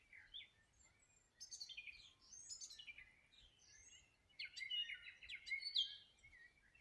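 Birdsong on a sunny morning after days of heavy rain, faint and airy, with scattered chirps and warbling phrases coming in bursts over a quiet background.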